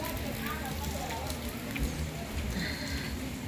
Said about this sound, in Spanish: Está lloviendo un poquito,